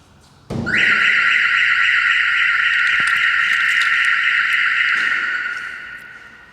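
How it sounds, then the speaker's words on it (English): A loud, continuous high-pitched van alarm tone on a Ford Transit Custom sounds right after a sharp impact thump, holding steady for several seconds before tapering off slightly. "any heavier impacts to the van would actually trigger the full alarm"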